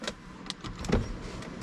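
Electric power seat motor in a 2018 Dodge Charger Hellcat, a faint short whirring hum with small clicks inside the quiet cabin, no one talking.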